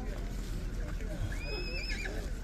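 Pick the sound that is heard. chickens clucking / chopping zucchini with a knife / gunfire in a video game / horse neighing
horse neighing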